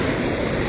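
Fast-moving floodwater surging by, a loud unbroken rushing roar, close and steady for the whole short moment.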